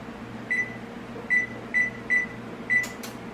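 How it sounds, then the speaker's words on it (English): Five short, clear electronic beeps from an oven's control panel as it is set to preheat to 350, evenly spaced and fairly close, followed by a faint click against a quiet kitchen hum. "I'm going to preheat the oven to"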